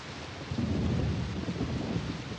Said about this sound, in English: The storm certainly won't help matters either.